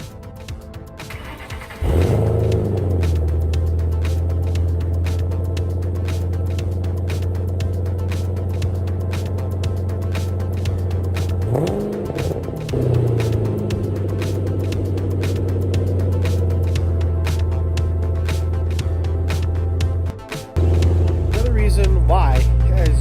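A Ford Mustang GT Premium V8 rumbles with a deep, steady exhaust note up close, dipping and swelling as the throttle changes, with a brief cut before a louder burst at the end.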